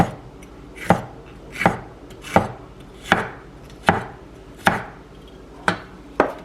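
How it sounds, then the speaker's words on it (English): A knife chops steadily through an ingredient for homemade chicken enchiladas with red sauce, about eight crisp, evenly spaced cuts striking a cutting board, close and clear with no talking. "I'm going to go ahead and slice the rest of it up"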